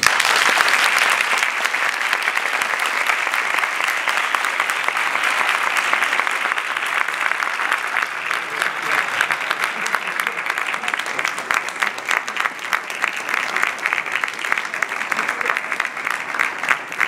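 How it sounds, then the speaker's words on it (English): An academic meeting audience applauds as a speaker is invited to the podium, a loud, sustained, even roar of many hands clapping that continues unbroken for over fifteen seconds. "Please accompany me with your applause."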